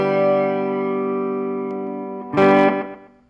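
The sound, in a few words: guitar amplifier flange effect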